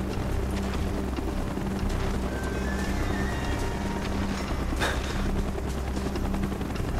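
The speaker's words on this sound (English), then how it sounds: "Got a chopper coming." In Call of Duty Black Ops, a helicopter flies close by with a steady, heavy rotor roar and engine drone that holds at one level throughout, with no voices over it.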